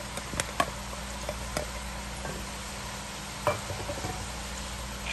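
Onion sautéing in a pan with green chili, ginger and garlic for butter chicken, a soft steady sizzle with a few sharp knocks of a spoon against the pan, no voices.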